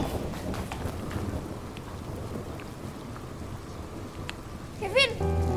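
Heavy rain pours steadily in an outdoor night scene of an Indonesian TV drama, a continuous dense hiss with a low thunder rumble beneath, and a raised voice calls out briefly near the end.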